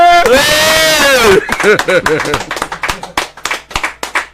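A voice sings or calls out a sustained line, then a crowd at a Yoruba gathering breaks into irregular, close clapping that carries on to the end.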